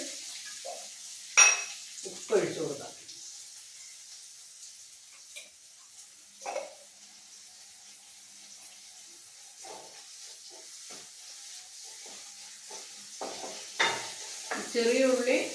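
Moringa leaves with curry leaves stir-fry in a pan for thoran, heard as intermittent scraping stirs and soft sizzling bursts with quiet gaps between them, plus an occasional utensil clatter.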